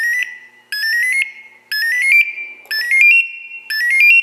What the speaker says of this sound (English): And it is now in full alarm and requiring a reset by pressing the side buttons.